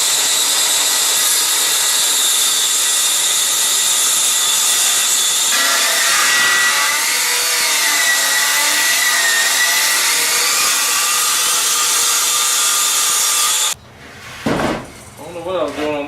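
A power saw cuts through marked wooden boards for a homemade subwoofer box, a steady loud whine that runs for about fourteen seconds and then stops. Brief clatter and handling noise follow.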